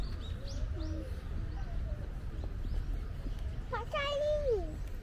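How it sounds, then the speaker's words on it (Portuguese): Small birds call at a shrine in Mishima, Shizuoka, Japan, with a few brief chirps and coo-like notes near the end over steady outdoor background noise and nearby voices. "Tem passarinho."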